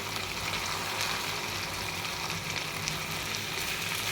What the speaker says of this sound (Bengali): এরপর ভালো করে নেড়ে চেড়ে ভেজে নেব